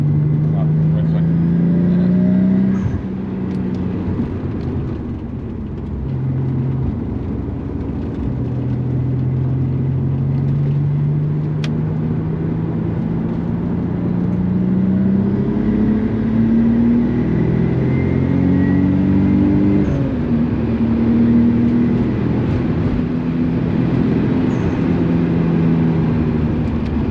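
A boosted Nissan 300ZX engine drones and rises through gear changes while lapping the Nürburgring, heard from inside the car as a loud continuous rumble with shifting pitch, with a driver talking over it.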